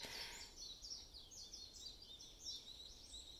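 Faint birds sing and chirp repeatedly in an open, quiet park at dawn, with a soft background hush and no voices.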